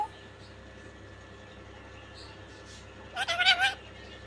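A person's voice imitates a cat's meow, a short close burst of repeated mewing, following quiet talk in a home.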